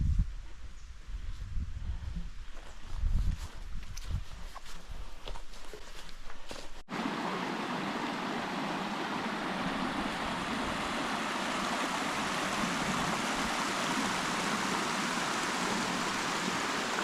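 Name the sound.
small waterfall in autumn forest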